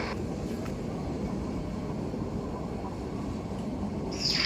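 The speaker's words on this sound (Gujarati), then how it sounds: "આ છે સાસણમાં નીકળતી ટ્રેન સરસ મજાની" A small tourist train at Sasan Gir rumbles steadily, droning on continuously, moderately close, with a brief high squeal near the end; no one speaks.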